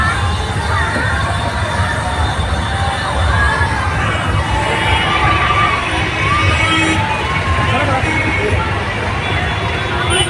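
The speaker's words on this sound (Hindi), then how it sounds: "बंदे झूल रहे हैं, बहुत चिल्ला रहे हैं" Riders on fairground swings at the Red Fort fair in Delhi scream and shout. A dense crowd roar carries on steadily with overlapping voices and excited cries throughout.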